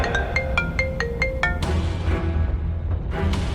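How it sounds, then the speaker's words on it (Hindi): A phone rings with a quick series of short, bright electronic tone pulses that stop after about a second and a half, followed by a quieter background with no talking. "तभी उसके पास रघुवीर पंडित का फोन आ गया।"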